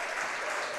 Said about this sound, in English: And the crowd give him a clap